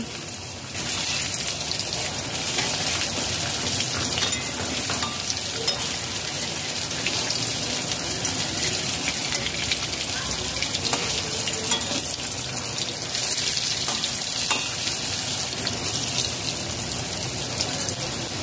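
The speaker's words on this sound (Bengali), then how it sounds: "কুমড়ো ভেজে নিতে হবে। কুমড়ো ভেজে ভাপা বানাবো।" Pieces of pumpkin frying in oil in a pan, a steady, dense sizzle that holds at an even level throughout, close up and without any talk.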